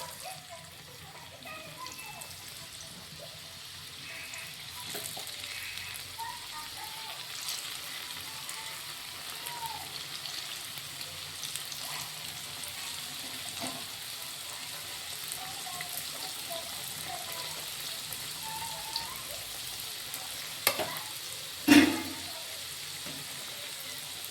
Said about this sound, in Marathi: आणि अशा सगळ्या आपण तळवून घेऊ